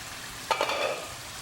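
Peshawari chicken fries in a kadhai, a soft sizzle with a brief pair of stirring scrapes near the middle, close and fairly quiet, no voices.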